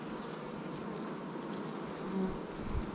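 Dense, steady buzzing of many honeybees swarming around an open hive during an inspection, a close, continuous drone with no talking.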